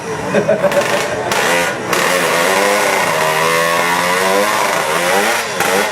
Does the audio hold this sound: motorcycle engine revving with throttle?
yes